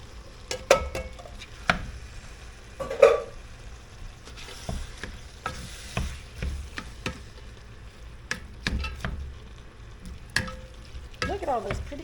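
Ground meat browning with vegetables and canned corn in a pan for a stuffed pepper casserole, sizzling softly, with intermittent stirring scrapes and utensil clinks against the cookware.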